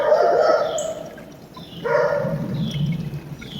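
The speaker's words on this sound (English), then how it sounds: "Beats me what my dog is barking at." A dog barks and yips in a few bursts with pauses between, fairly close, then a lower whimpering sound toward the end.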